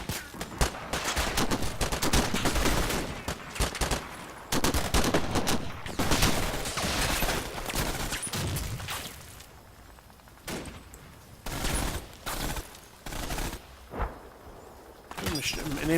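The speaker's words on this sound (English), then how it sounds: "An MG of some kind shooting at me" Machine gun fire rattles in the World War II strategy game Combat Mission, first as dense continuous bursts and then as scattered, separated shots, with someone talking over much of it.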